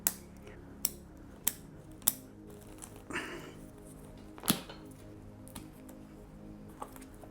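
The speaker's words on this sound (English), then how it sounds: "I'm going to go ahead and remove these shoots and then peel off this stub" Sharp scissor snips cutting shoots on a juniper bonsai, several crisp clicks spaced apart, with some quiet rustling of the branches between them.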